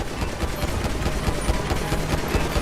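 Rapid gunfire in a Roblox game rattles on without pause, a dense stream of loud, close shots with no talking over it.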